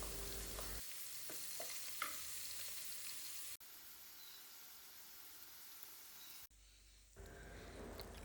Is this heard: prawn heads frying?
yes